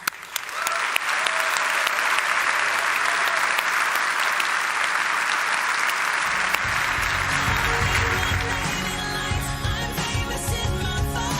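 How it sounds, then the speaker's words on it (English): A loud, dense round of applause for panelists at a political summit session, a full audience clapping steadily for several seconds before music swells in underneath and the clapping thins. "Let's give a final round of applause for our panelists."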